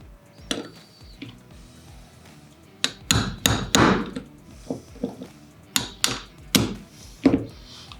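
A hammer taps a punch to drive a roll pin out of a Walther P22 pistol, about a dozen sharp metallic strikes, a few light taps and then a run of harder blows, close and clear with no talking.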